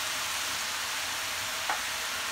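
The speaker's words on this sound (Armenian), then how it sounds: "կաղամբը տապակում եմ չամպինյոն սունկով" Cabbage and champignon mushrooms frying in a pan, a steady, even sizzle of hot oil held throughout at moderate level, with one faint brief clink near the end.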